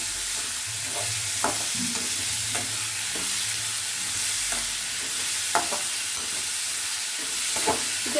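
Capsicum sizzles in a pan with a little oil for capsicum rice, a continuous hiss with scattered sharp stirring clicks and scrapes at close range, no voices over it.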